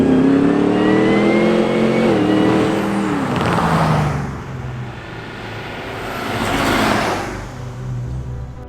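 A Land Rover Defender 110 built by Himalaya accelerates hard. The engine note climbs through the gears with shifts, eases, then surges again before fading, loud and close.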